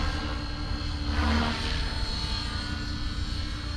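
Align T-Rex 550X RC helicopter hovering inverted in 3D stunt mode, its steady high-pitched rotor and motor whine continuous and fairly loud throughout, with no talking.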